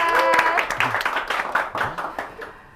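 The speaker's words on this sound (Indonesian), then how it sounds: "Tepuk tangannya, teman-teman." Audience at a school film festival talk applauding as a speaker is introduced, a short burst of scattered claps from a modest crowd that tapers off after a host's voice.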